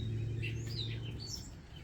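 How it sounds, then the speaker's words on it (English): Birds chirp faintly outdoors in a few short, high tweets over a steady low hum. "And the birdies are chirping."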